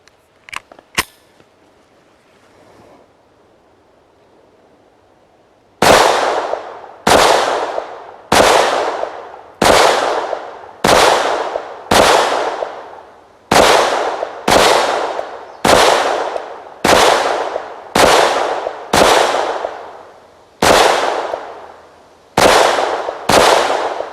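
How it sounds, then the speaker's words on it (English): Sixteen sharp, loud reports from a Taurus TX22 .22 pistol firing CCI Mini Mag rounds at a range, evenly spaced about a second apart after a few faint clicks and a quiet pause. "Now we're going to go ahead and try the CCI Mini Mag, 16 rounds of it."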